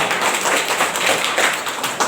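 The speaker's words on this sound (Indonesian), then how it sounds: "Tepuk tangan semua." Applause from an audience at a talk on drug dangers, a dense, steady patter of many hands clapping at once, loud and close, continuing without pause.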